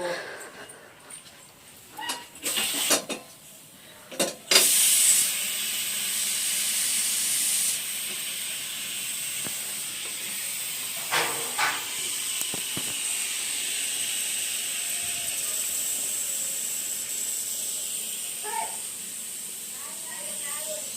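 A pressure cooker of carrot payasa being opened in a home kitchen, releasing a loud, steady rush of hissing steam that starts abruptly and continues at length, after a few sharp clanks from handling the lid.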